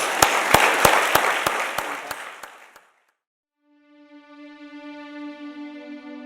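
An audience at an evening event gives a burst of applause, a dense clatter of hands with a few sharp claps standing out. It fades out after about three seconds, and a sustained musical tone follows the silence.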